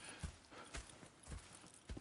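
Horse hooves clip-clop in Red Dead Redemption 2, a steady walking rhythm of four or five soft thuds over a constant background hiss, close and moderately loud with no speech.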